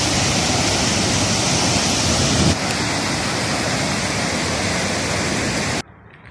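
Dhuan Kund waterfall near Sasaram sends up a loud, steady roar of rushing, falling water that holds unbroken for almost six seconds, then cuts off abruptly into silence.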